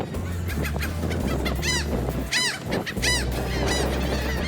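Agitated seabirds on Grenada island give loud, repeated honking calls, several overlapping in quick succession over a steady rumbling background, with no talk.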